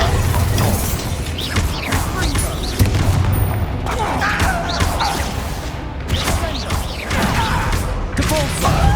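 Bombarda spells in Hogwarts Legacy fire off a series of loud, booming explosive blasts, repeated bursts mixed with crashing impacts and combat effects, while a character's voice calls out between them.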